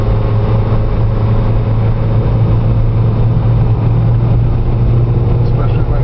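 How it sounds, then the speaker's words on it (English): A small Toyota car climbs a steep country hill and shifts gear, its engine a steady low drone heard from inside the cabin, loud and continuous, with a person talking over it. "here comes the steepest part. Little Toyota shifting gear,"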